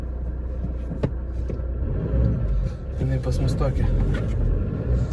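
A VW Bora TDI diesel engine rumbles steadily while the car creeps in reverse gear, a low, close drone with a few knocks and clunks, and people talk over it throughout.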